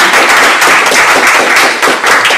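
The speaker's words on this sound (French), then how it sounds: "Je voudrais vraiment qu'on les applaudisse à nouveau." Audience applause at the closing session of a scientific conference day, a dense steady patter of many hands filling the whole stretch at close range with no voices.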